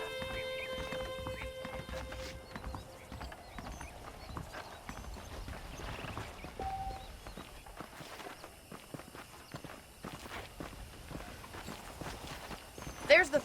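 Horse hooves clip-clop at a steady walking pace over faint ambient noise, with a soft thump near the end, in the video game Red Dead Redemption.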